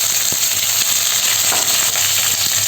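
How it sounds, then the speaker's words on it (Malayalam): Mustard seeds, dried red chillies, curry leaves and green chillies frying in hot oil for an ivy gourd stir-fry, a loud steady sizzle with faint crackles throughout. "കടുക് ഒന്ന് പൊട്ടി വരുന്ന സമയത്ത് നമുക്കിതിലേക്ക് ഉണക്കമുളക് ചേർത്ത് കൊടുക്കുന്നുണ്ട് രണ്ടെണ്ണം അതിൻ്റെ ഒപ്പം തന്നെ കുറച്ച് വേപ്പിലയും മൂന്ന് പച്ചമുളകും"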